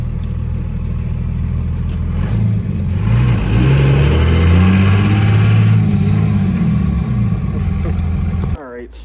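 A 2nd Gen Cummins truck with a swapped manual gearbox drives along, a loud, deep diesel drone whose pitch rises and falls through gear changes, with a sharp clunk near the end.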